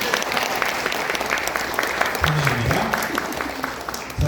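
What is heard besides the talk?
audience applause at opening ceremony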